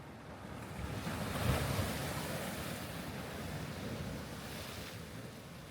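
Ocean waves break and splash against a rocky shore at Inamuragasaki, Kamakura, a steady wash of surf with wind buffeting the microphone and a louder surge near the start.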